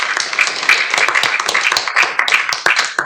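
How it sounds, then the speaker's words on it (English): Applause at a city council meeting, a dense patter of many hands clapping at moderate loudness, uneven and lively throughout. "y'all would just give them a round of applause"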